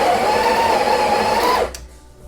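A Sage Breville Barista Express espresso machine's built-in grinder whirs loudly and steadily with a droning motor tone, then cuts off abruptly near the end, leaving a quiet room.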